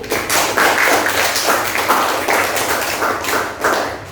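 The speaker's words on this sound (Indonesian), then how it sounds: "kita beri tepuk tangan lebih dahulu" Steady applause from a class group, dense overlapping claps sustained for several seconds with a few louder bursts, no talking over it.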